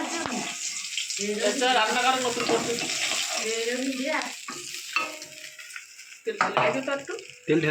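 Oil is poured into a pan and begins frying in a home kitchen where coriander-leaf chops are being made, a close bubbling sizzle running beneath loud, nearby conversation.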